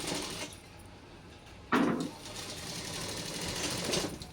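A sewing machine runs steadily, stitching the lining of a baby frock, with a brief louder burst of mechanism noise partway through and a continuous whirr throughout, no talk.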